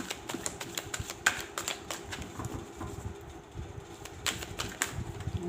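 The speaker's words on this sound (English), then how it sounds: "The same cards are shuffling" Tarot cards are shuffled in quick, crisp bursts of riffling and tapping, close by and irregular, with short pauses between clusters.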